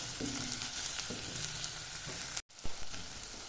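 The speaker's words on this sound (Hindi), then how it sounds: "प्याज को थोड़ा सा हम ब्राउन करेंगे, थोड़ा सा गुलाबी हो जाए" Onions sizzle and crackle steadily in a hot pan while browning, with a few stirring scrapes and a brief break near the end.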